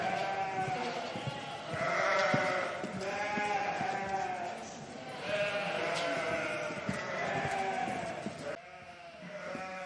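Sheep bleating repeatedly in long, wavering cries, several overlapping calls close by with livestock noise around them.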